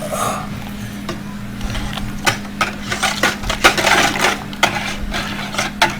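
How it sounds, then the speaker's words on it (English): A metal whisk scrapes and clinks around the bottom of a pot of hot homemade Zote laundry soap, making irregular close tapping and scraping strokes over a steady low hum. "I'm going to take a whisk and just get all the way down to the bottom."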